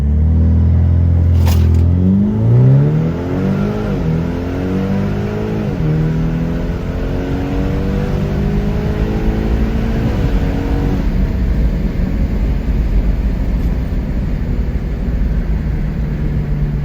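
A car engine revs hard at full throttle, loud and close, with a strong low rumble and rising, sweeping harmonics through the first ten seconds before settling into a steady roar. No talking.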